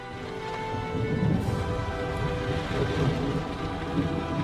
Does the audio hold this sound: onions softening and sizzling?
no